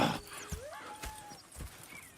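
Horses in a Western frontier camp whinny with a long rising neigh while hooves clip-clop in a slow, uneven rhythm nearby.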